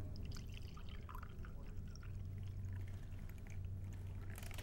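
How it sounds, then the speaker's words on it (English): Coffee poured into a dark cup, a steady soft liquid stream running for several seconds at close range with no talking. "So I pour the coffee in."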